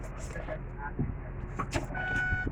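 Someone settles into a car on a hot day, with muffled interior rustling, soft thumps and a door-like knock over a low steady cabin hum, while voices murmur in the background.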